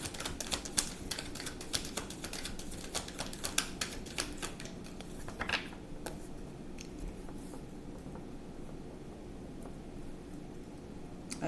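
Tarot cards being shuffled during a reading: a steady run of crisp riffling clicks and soft slaps up close, busiest in the first half, then thinning to lighter occasional taps, with no talking.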